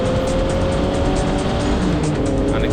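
Formula Vee race cars run at Mondello Park during a national race, engines buzzing loud and steady at high revs with a sustained whine, heard close from the cockpit.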